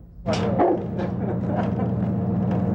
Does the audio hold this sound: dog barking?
yes